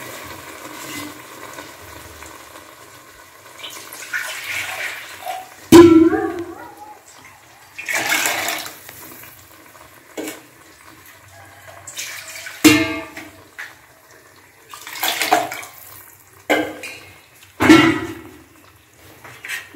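Water poured into a crab curry (nandu kuzhambu) during cooking, heard as scattered bursts of splashing and pouring in a quiet kitchen, with clinks of a pot between the pours.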